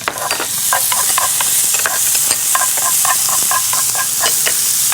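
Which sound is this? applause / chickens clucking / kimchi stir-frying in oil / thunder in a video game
kimchi stir-frying in oil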